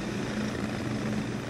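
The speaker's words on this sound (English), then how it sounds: "Helicopter!" A helicopter in the Double Dragon 2 Turbo CD game drones as a steady, dense rotor-and-engine rumble with a low hum, continuous and fairly loud, with no voices.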